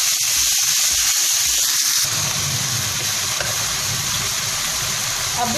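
Minced meat (keema) dropped into a pan of hot oil, a steady loud sizzle that starts abruptly about two seconds in and carries on without a break, with earlier clatter before it.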